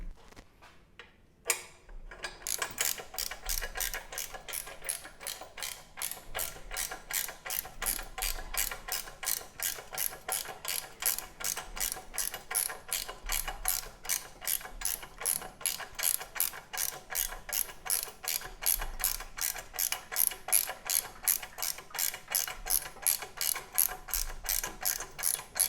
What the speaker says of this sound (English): It feels a little tighter, so I'm going to use the ratchet.